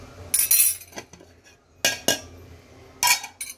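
A spoon clinks against a glass while glucose water is stirred, with three clusters of bright metallic taps separated by short quiet gaps, close and clear with no talk.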